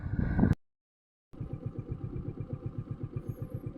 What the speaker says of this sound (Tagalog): Magsimula na tayo ng motor ride.